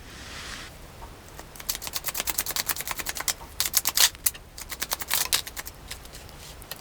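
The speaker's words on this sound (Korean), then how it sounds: "카드를 조금 더 뽑아보도록 할게요." A deck of tarot cards is shuffled up close in quick riffling bursts of crisp, rapid flicks with short pauses between.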